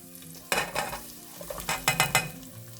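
Garlic and shallots fry in a pan with a close, crackling sizzle, broken by several loud stirring scrapes and bursts as the pieces are pushed around. No voices.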